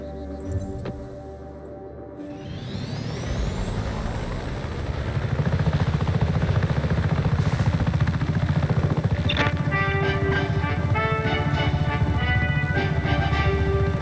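Helicopter flying in the video game Just Cause 3, a steady whirring rotor and engine drone that builds in loudness and holds, with game music and effects layered on top.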